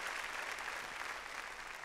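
A church congregation applauds during a Spanish-language Sunday service, a dense, even wash of many hands clapping heard from some distance, fairly quiet and sustained without a break.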